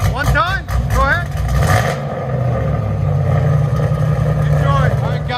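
A 1995 Nissan 240sx with a cammed LS3 V8 swap, long tube headers and a Borla Pro XS exhaust gives a loud, steady, deep rumble throughout, with voices talking over it early on.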